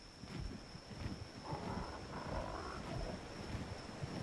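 Low, distant roar of a Carnotaurus dinosaur in the video game Ark Survival Evolved, faint and rumbling beneath a windy ambient background with a steady high hum.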